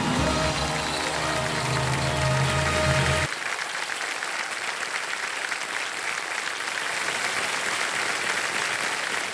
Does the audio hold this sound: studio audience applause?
yes